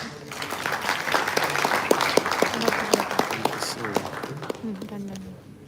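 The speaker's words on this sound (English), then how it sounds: "Can we have a round of applause?" Applause from an audience at a university event in a hall, distinct individual claps at moderate distance building and then thinning out toward the end, with some voices underneath.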